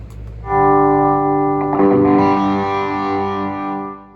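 Electric guitar through a Lambertone Grinder pickup at very high gain, a distorted chord rings out, then a second strum swells with chorus-like shimmer and sustains loudly before fading.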